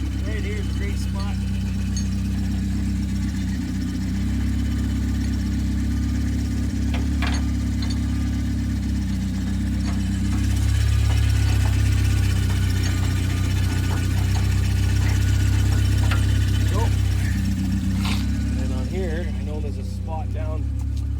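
A Subaru Sambar's small engine runs at a steady idle, a constant low hum and rumble held throughout, with someone talking over it.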